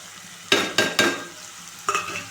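Flat beans (chikkudukaya) fry in a pan with crushed garlic, giving a few sharp bursts of sizzle and scraping stir strokes, close and moderately loud, with no talking.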